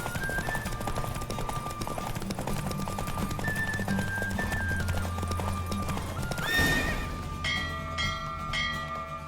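Rapid hoofbeats clatter in a steady galloping rhythm during a horse race in The Witcher 3: Wild Hunt, then a horse whinnies loudly; bright chiming tones ring out afterward.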